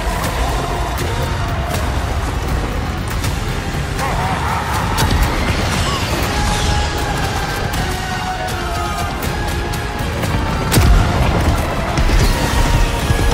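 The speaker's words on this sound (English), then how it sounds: "Whoa, dropping bombs." Bombs fall and explode in a Total War Warhammer III trailer: a dense, loud wash of battle noise with rumbling blasts and a sharp crashing impact near the end, layered with music and effects.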